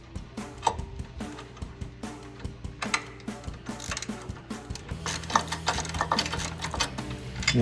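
Bolts snugged on the upper control arm of a 2014-2018 Chevrolet Silverado 1500, a rapid ratcheting clatter repeating in steady bursts, close and mechanical, with a low hum underneath.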